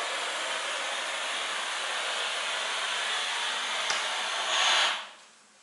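A Karcher SC JTK20 steam cleaner working on a wooden floor gives off a steady, loud hiss of steam. It swells briefly near the end, then cuts off into quiet.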